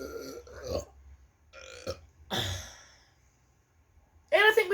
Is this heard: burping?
yes